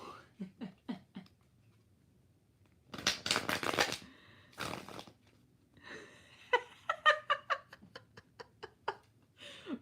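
Tarot cards are shuffled by hand in several quick bursts of riffling and slapping, close and crisp, separated by short pauses of quiet.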